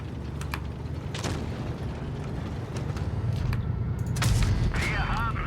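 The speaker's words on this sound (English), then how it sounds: "Put another shot into him." Tank cannon shots in the mobile game World of Tanks Blitz, with a T-44-85 among the tanks, booming over a constant engine rumble, with a heavier blast near the end.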